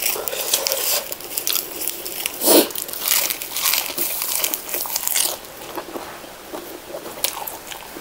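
Crispy pork crackling is bitten and chewed up close, loud crunches and crackles repeating in an irregular rhythm as someone eats.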